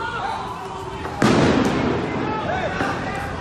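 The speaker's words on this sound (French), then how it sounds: "deux véhicules de police qui ont actuellement été dégradés et qui viennent d'être incendiés ici" Police vehicles set on fire by protesters during a street demonstration in Belgium, with a sharp loud pop followed by crackling and roaring noise nearby, and people talk over the scene.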